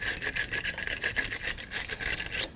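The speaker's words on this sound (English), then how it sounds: "I have a battery terminal brush here." Battery terminal brush scrubbing corrosion off a car battery terminal on a Ford Edge, a fast rhythmic scraping stroke repeated steadily and up close for about two and a half seconds, with no talk.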